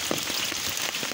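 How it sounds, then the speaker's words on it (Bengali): Steady rain pattering on a surface outdoors during a fishing outing, a dense even hiss with soft scattered drops and no other sounds. "বৃষ্টি তো কমে গেছে।"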